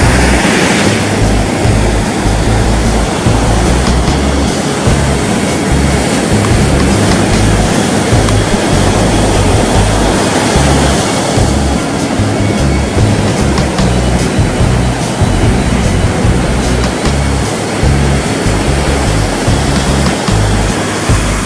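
Large ocean swells dump onto a surf break in a continuous loud roar of crashing, churning water with heavy low rumble. No voices are heard.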